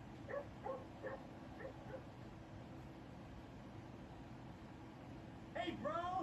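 A dog in the GTA V video game gives a few short barks and yips, with a brief bark at the start and a louder burst near the end, over a faint hiss, with a voice talking.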